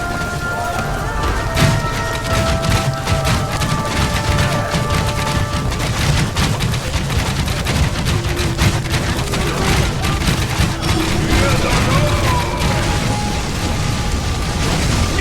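Battle in the Ancestors Legacy PC game, Slavs campaign: dense, continuous gunfire and crackling combat din with booming impacts, layered under a steady music bed throughout.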